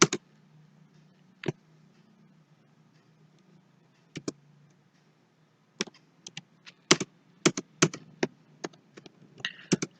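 Computer keyboard keys pressed while entering data into software, sparse isolated clicks at first, then quicker bursts of close, crisp taps over a faint background hum.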